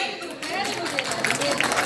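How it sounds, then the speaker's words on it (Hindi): Audience clapping breaks out alongside a busy crowd murmur, with scattered sharp claps rising toward the end over continuing voices. "ताली।"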